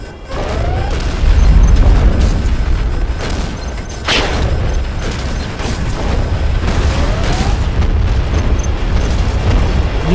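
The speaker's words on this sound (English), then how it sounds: "Warning, particle cannon detected" A particle cannon blast in the real-time strategy game Command & Conquer Generals Zero Hour, loud booming rumble with a sharp crack near the middle and sustained explosive roar throughout.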